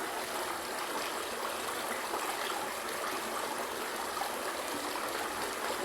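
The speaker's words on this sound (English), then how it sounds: "The sound of water echoes through space." An Icelandic waterfall pours steadily, a dense continuous rush of water that stays loud and even throughout with no voices.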